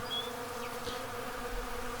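Honey bees in darkness during the April 8th 2024 solar eclipse, a faint, sparse buzz of one or two bees zipping past over a quiet, steady background.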